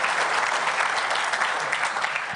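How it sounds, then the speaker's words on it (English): Audience applause at a security conference talk on SCADA systems: a dense, steady roar of many people clapping at moderate loudness, continuous from start to end without speech. "I think these guys also love applause."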